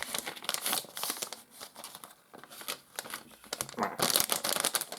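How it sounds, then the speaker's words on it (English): Shiny plastic wrapping around a Warcry Bloodbound miniatures packet crinkles and tears as it is pulled open, close and busy in irregular bursts with brief pauses. "get rid of that nice and shiny crinkly stuff"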